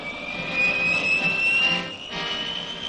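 An F-100 jet fighter engine runs ahead of a zero-length launch at Indian Springs, Nevada, in 1958, a loud sustained roar with a high whine that briefly dips and then carries on.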